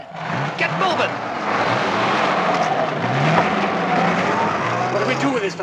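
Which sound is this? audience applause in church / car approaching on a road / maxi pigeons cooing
car approaching on a road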